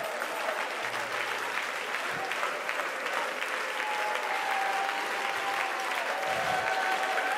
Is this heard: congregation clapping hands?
yes